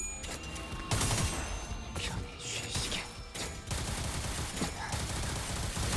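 A magazine is emptied in the game Limbus Company: a close, loud run of gunshots in quick bursts with crashing hits, layered over busy game effects.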